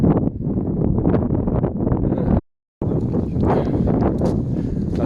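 Wind buffets a microphone out on open ice in a steady, heavy rumbling roar with one brief silent gap partway through.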